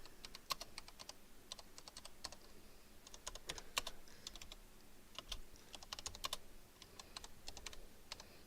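Typing on a computer keyboard, faint rapid key clicks in uneven bursts with short pauses between them.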